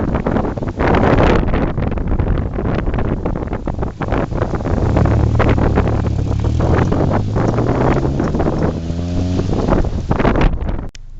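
A manual car pulls away in first gear, the engine note rising in steady rising harmonics over heavy wind buffeting on the microphone, loud and close for about eleven seconds with no talking.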